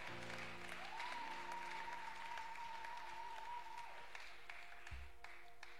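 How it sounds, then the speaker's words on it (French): A church congregation at a Sunday service claps steadily, a dense continuous patter of applause that is moderately distant and fairly quiet, with a faint sustained tone over it. "Nous acclamons l'Éternel."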